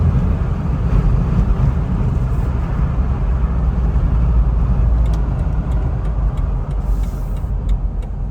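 A Jeep Wrangler TJ Rubicon on freshly replaced brakes, calipers, rotors and pads drives along with a steady, loud rumble of engine and road noise and some wind, without pauses.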